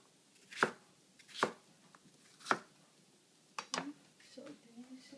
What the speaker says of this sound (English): So we cut into cube size.